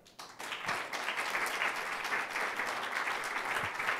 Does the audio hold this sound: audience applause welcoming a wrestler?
yes